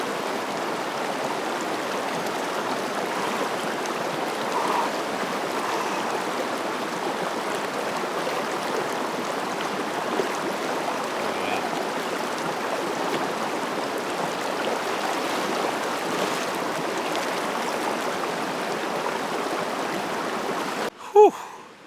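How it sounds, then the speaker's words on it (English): A river in the Colorado Rockies rushes steadily, a loud, continuous, broadband flow of water close by, with a brief knock near the end. "you're constantly like trying not to get swept away by the river"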